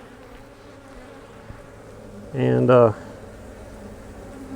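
Honey bees fill a nuc hive with a steady, close, low buzzing hum that runs throughout, and a voice cuts in briefly partway through.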